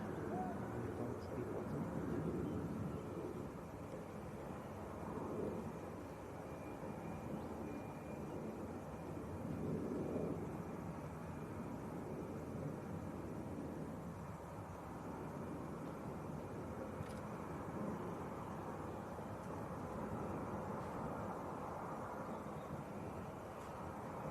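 A TUI Boeing 737 taxis at Leeds Bradford Airport, its jet engines a faint, steady distant rumble and whine that rises and falls softly throughout.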